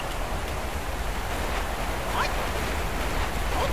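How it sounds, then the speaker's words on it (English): Roaring waterfall in Black Myth: Wukong, a steady dense rushing wash of falling water that holds at an even, fairly loud level throughout with no voices over it. "But also, what is with this waterfall?"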